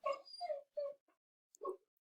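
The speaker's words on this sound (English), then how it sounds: "my dog is whining in the background" A dog whines in a few short, high whimpering bursts with gaps between them, fairly close and alone without talk.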